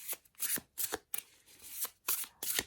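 Tarot cards being shuffled close by, a series of crisp riffling bursts separated by brief pauses, with no voices.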